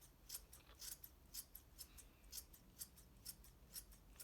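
Scissors snipping around a dense, round yarn pom pom to trim it, a quiet series of crisp, brief metallic cuts repeating in a steady rhythm close up, with no talk.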